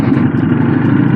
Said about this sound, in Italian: il rombo è da 10 e lode, direi che è una gran moto ragazzi